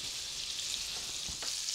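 Meatballs cook in a pot of tomato sugo, giving a soft, steady sizzle and bubbling hiss throughout, fairly faint, with a gentle stir or pop near the end and no voices.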